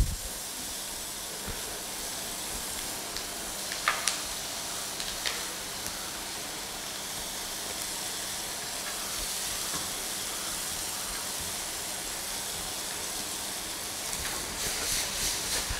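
Red onion, garlic and green pepper fry in melted Blue Band margarine, giving a steady soft hiss and sizzle throughout with a few faint clicks of utensils.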